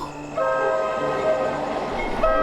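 Train running as a sound effect in a Bengali horror audio story: a steady rumble of rail cars with sustained horn-like tones rising in and returning near the end, loud and continuous with no talk.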